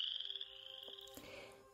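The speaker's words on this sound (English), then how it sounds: "keep an ear out for the creak or sound of a finger running along a comb, and you might just find a chorus frog" A chorus frog calls at a vernal pool, a fairly faint, creaky trill in the open air outdoors, with no talk.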